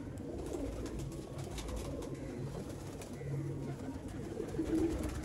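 Red-eyed pigeons coo softly and repeatedly amid a busy background murmur, several birds close by, in the Sialkot border area of Pakistan.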